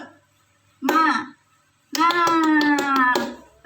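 Children chanting the 'tepuk semangat' clapping chant in a classroom, two loud bursts of young voices in unison, the second longer and punctuated by sharp rhythmic claps.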